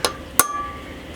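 A hammer strikes a center punch set on a Toyota wheel hub twice: two sharp, close metallic blows about a third of a second apart, the second leaving a brief ringing tone.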